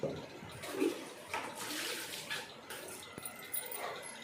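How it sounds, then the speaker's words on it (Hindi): Water splashes and runs over a soapy wooden plank seat (patli) being washed in a home bathroom, a steady close wash with brief louder splashes, and no talking. "अब मैं अपनी पटली भी धो के रख दूँगी"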